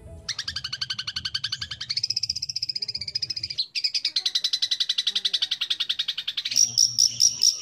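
A long-tailed shrike (cendet) sings close and loud, a rapid run of repeated high chirps that shift pitch in phrases, with a faint low croaking underneath.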